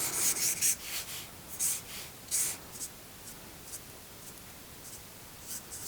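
Pencil strokes drawing two trees on paper, a series of light, scratchy rubbing bursts near the start that thin out into sparse, faint scrapes, close and quiet with no talk.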